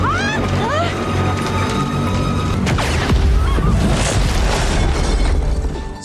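In a film, a car bomb goes off with a heavy boom and crashing debris amid a dense, loud mix of music and effects. Whooshing sweeps lead in and the roar rumbles on afterward.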